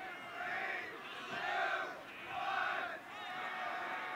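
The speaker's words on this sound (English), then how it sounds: "The crowd trying to psych out the hustle by counting down early" Spectators at a professional ultimate frisbee game, Atlanta Hustle at Raleigh Flyers, chant a countdown together before the clock runs out, the rhythmic crowd voices swelling in about three loud pulses and holding steady in a large, reverberant venue.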